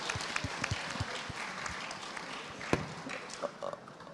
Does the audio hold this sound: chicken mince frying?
no